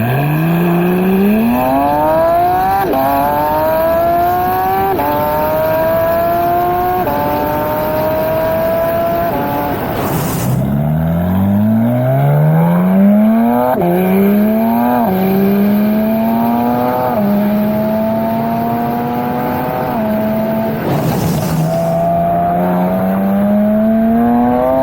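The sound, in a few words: sports car with loud exhaust accelerating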